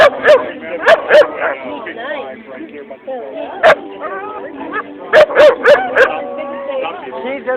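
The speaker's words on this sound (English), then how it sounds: "She's a beautiful dog." Dog barking outdoors at a fall festival in Pahrump, sharp yips and barks in short clusters, loud and close, mixed with whimpering sounds while people talk throughout.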